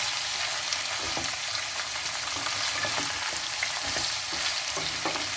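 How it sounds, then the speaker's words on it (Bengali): Beans and vegetables sizzle steadily in hot oil in a pan, with scattered scraping knocks from a spatula stirring them, close and continuous without talk. "একটু এগুলোকে আর একটু ভাজা ভাজা করে নিই।"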